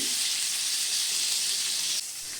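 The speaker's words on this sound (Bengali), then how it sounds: "পটলগুলোকে নেড়ে চেড়ে নিয়ে তিন চার মিনিটের জন্যে ভেজে নেব" Pointed gourd (potol) pieces frying in hot oil in a pan, a steady close sizzle that holds evenly throughout and drops slightly in level near the end.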